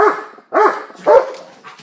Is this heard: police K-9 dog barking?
yes